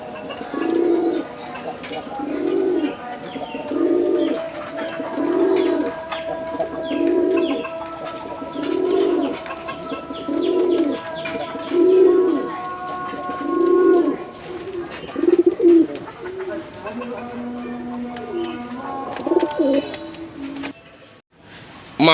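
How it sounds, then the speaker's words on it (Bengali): Madrazi Golla pigeons coo in a slow, regular series of deep, rounded calls, each repeating at roughly even intervals, close and clear, with faint chirps and rustling in the background. "আমরা কিন্তু এই মাদ্রাজি গোল্লার ডাকটা কিছুক্ষণ আগে দেখলাম বা শুনলাম"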